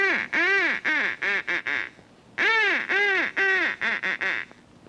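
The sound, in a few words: duck hail call imitating ducks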